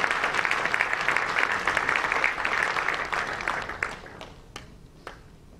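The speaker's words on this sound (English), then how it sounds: "Y'all can give them a round of applause." A church congregation breaks into a sustained round of applause during a Sunday service, dense and steady at first, then thinning to a few scattered claps as it dies away.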